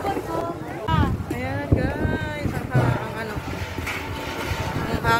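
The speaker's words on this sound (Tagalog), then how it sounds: "Hangin dito, guys." Wind buffets the microphone at a crowded outdoor viewpoint, gusty low rumbling throughout under several people chatting and laughing nearby.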